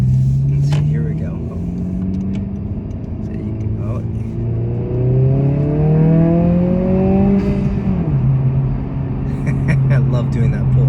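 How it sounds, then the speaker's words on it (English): A 2022 Honda Civic Si pulls hard, engine rising in pitch through a gear, dropping sharply at the shift, then climbing again, with intake whoosh and a steady cabin rumble throughout. "And you hear the air intake, man. You know, when you switch gears, you hear that sound."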